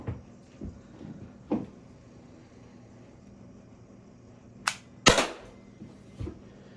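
An Umarex HDP50 CO2 pistol fires in short sharp pops, with two loud close reports near the end after softer clicks and handling knocks earlier.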